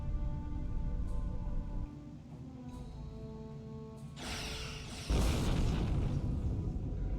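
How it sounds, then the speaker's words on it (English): A starship fires all weapons in the Star Trek Online video game, a faint humming ship ambience breaking into a sudden burst of loud blasts and rumbling explosions near the end. "fire all weapons"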